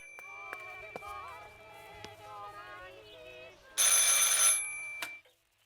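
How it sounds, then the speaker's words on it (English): Old telephone bell ringing in the game Martha Is Dead, a loud burst of ringing late in the clip after quieter tonal game sounds, with a voice speaking over the earlier part. "I should pick up the phone but remain silent."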